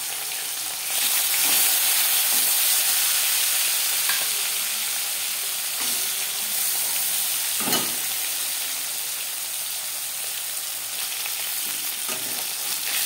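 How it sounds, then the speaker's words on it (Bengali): Bele fish frying in hot mustard oil in a pan, a steady loud sizzle and crackle throughout, with a few brief spatters and clinks of a spatula against the pan. "বেলে মাছ একটু নরম মাছ, তাই আমি এখানে কড়া করে ভাজছি"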